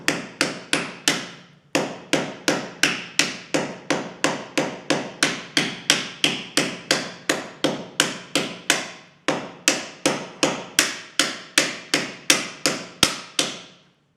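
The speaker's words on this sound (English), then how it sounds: "I'm going towards the back here and then just hammering." Sharp, regular hammer blows ring out close by in two long runs with a short pause between them, striking to loosen a stuck cylinder head on a Ford Model A.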